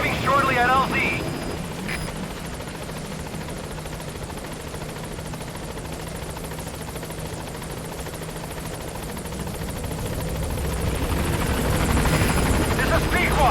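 A game helicopter in Metal Gear Solid 5: The Phantom Pain comes in to a landing zone with a loud, steady rotor roar that holds throughout and swells toward the end, with voices faintly present beneath it.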